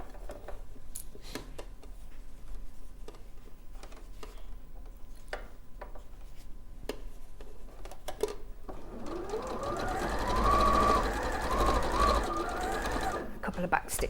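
Sewing machine stitching seams, ending with a couple of back stitches: steady mechanical whirring and ticking, growing louder and busier near the end, with someone talking quietly over it.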